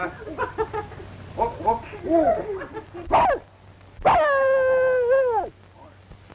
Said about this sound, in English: I bet he's a police dog.